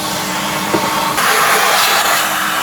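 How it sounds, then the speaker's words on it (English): Vacuum cleaner hoovering out the dried fuel tank of an Aprilia SL1000 motorcycle, a steady loud broadband whoosh with no voices, its pitch and intensity shifting as the nozzle moves around inside the tank. "As it's lovely and dry, I'll just hoover this out."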